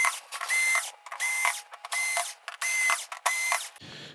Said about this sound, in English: We've got our six screws here that we're gonna remove